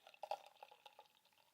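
Beer, a hazy WYLAM Slasher IPA, pours into a Teku glass, heard close and quiet as a few gentle glugs and splashy drips that taper off.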